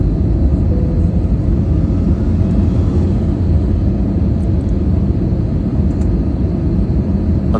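Steady, loud broadband roar inside an airliner cabin as the plane descends toward landing at Hangzhou, China, a continuous low rumble with hiss and no talking.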